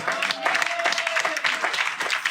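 A church congregation bursts into steady applause, a close, dense patter of many hands with a few voices mixed in.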